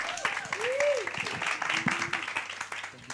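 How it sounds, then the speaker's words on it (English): Workshop audience applauding a speaker being welcomed to the floor, a steady wash of clapping from a crowd with a voice-like tonal sweep riding over it. "Let's give Mr. Spamandla a round of applause."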